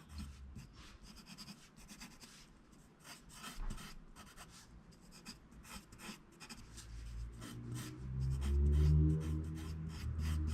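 Quiet, repeated scratchy strokes of a Number 2 or Staedtler Mars HB pencil on paper in a steady rhythm, close up, followed by a low rumbling near the end.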